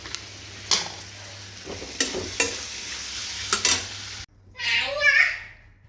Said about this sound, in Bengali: আজকে ব্রেকফাস্টে বানাচ্ছি কালো জিরে কাঁচা লঙ্কা পেঁয়াজ দিয়ে আলু পটল ভাজা